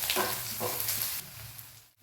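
Sliced onions frying in hot oil with panch phoron and turmeric: a close, steady crackling sizzle with a couple of stirring scrapes, fading away at the very end.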